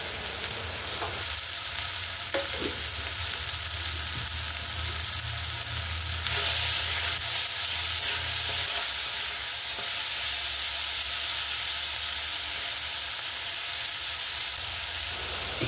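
Potatoes and tomatoes fry steadily in a pan with green chillies, a continuous close sizzle and crackle with occasional stirring, no talk.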